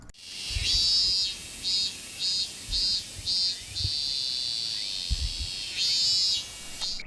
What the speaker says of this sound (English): Cicadas live underground for years, but when they finally do emerge, they only last for up to a month.